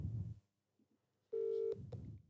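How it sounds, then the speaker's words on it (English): An outgoing phone call: a steady electronic dial tone sounds near and clear, followed by short beeps, with faint background noise before and after. "I have a feeling Mark's not going to answer the phone"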